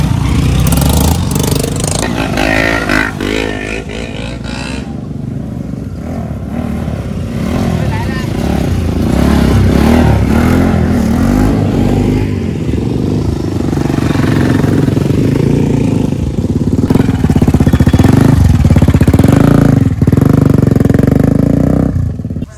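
Several motorcycles on an Independence Day group ride in Assam, engines droning and revving steadily up close, a continuous loud rumble with voices talking over it.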